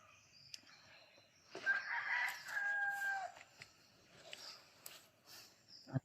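Wild roosters crow from a distance in an open mountain setting, a couple of drawn-out calls rising over quiet background, with faint bird chirps around them.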